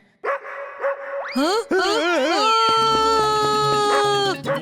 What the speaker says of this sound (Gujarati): હે ડોગ, સ્ટોપ બાર્કિંગ